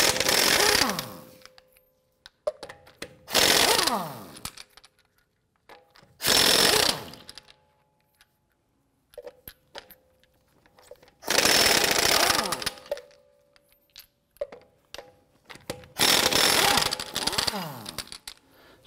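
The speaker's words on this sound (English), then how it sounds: "Using a 22 millimeter socket, let's go ahead and remove our lug nuts." A 22 mm socket on an impact wrench removes wheel lug nuts on a 2011-2018 Ram 1500 during front brake work: five loud, close bursts of rattling hammering, each lasting one to two seconds, separated by quiet gaps.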